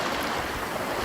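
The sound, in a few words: simulated waves moving towards the shore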